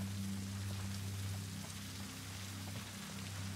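Rain in the video game The Last of Us Part II, a soft, steady hiss of falling drops under a low continuous hum, quiet and unbroken with no speech.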